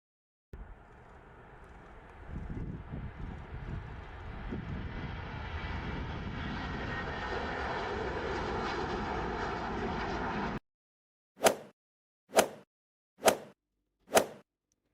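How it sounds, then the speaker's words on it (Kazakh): An airplane engine drone rises and holds steadily for about ten seconds, then cuts off, followed by four sharp, evenly spaced plopping pops in silence. "Бұл ұшақ, жарайсың."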